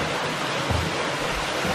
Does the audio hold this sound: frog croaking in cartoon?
no